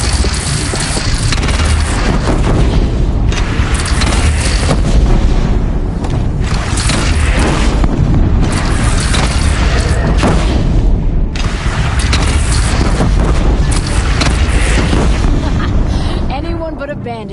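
Cannon fire booms repeatedly in the video game Horizon Zero Dawn, loud deep blasts within a dense roar of battle noise, with a person talking over the action.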